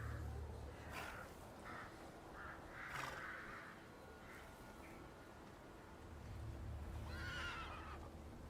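A horse whinnies in a shrill, wavering burst near the end, after several short nasal calls and soft noises over a low background hum, in the video game The Thaumaturge.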